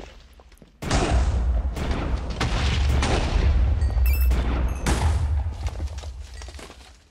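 Gunfire in Minecraft with the Hexxit modpack, a sudden heavy booming barrage that rumbles on continuously for several seconds with overlapping thuds and blasts, loud and close, then fades slightly at the end.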